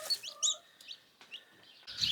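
High-pitched chicks chirping in short, bright bursts, several peeps close together, with brief quiet gaps between calls.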